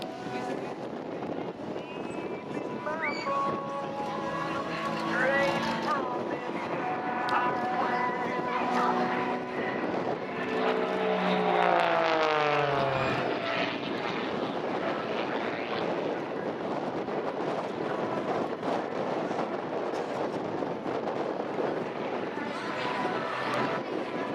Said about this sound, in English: You're watching Richard Goodwin in the muscle biplane